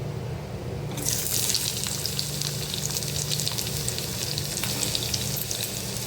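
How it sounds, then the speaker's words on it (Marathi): Sliced onion drops into hot oil and a loud, bright sizzle erupts after a second of quieter background, continuing steadily. "कढईमध्ये मी थोडंसं तेल घालते तर तेलामध्ये आपण हे सगळं साहित्य भाजून घेणार आहोत तर सगळ्यात आधी मी कांदा घालते"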